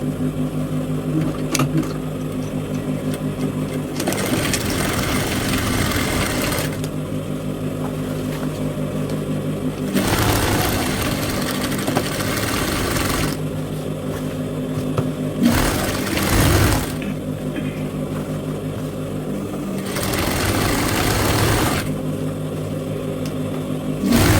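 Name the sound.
sewing machine stitching a pleat on Ankara fabric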